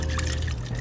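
Freshly brewed coffee being poured from a filter-brew carafe into a cup, a steady close liquid stream lasting under a second with no talk.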